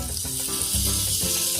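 Spices and curry leaves crackle and sizzle in hot oil for a tadka tempering chutney, a steady close hiss with bursts of popping and no talk.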